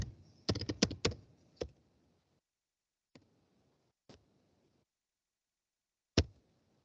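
Quick bursts of keyboard typing, a flurry of clicks followed by a few isolated, spaced-out keystrokes in a quiet room.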